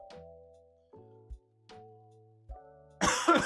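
A single close, harsh cough bursts out at the end, after a few seconds of steady electronic tones from a computer game.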